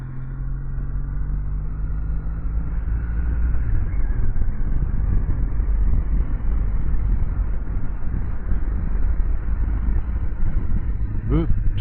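A Kawasaki W800 motorcycle engine drones steadily while riding on the road, with low rumbling and wind buffeting the microphone throughout, holding a constant close, loud level.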